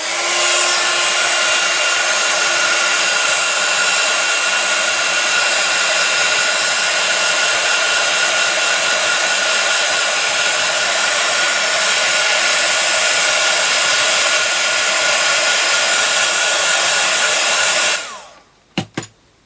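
A hair dryer blows on fresh paint on a handmade fairy house, a loud, steady, close whir that runs unbroken for most of the time, then shuts off with a couple of small clicks.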